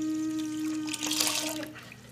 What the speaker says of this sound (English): Now the last thing we're going to do is add our pineapple juice.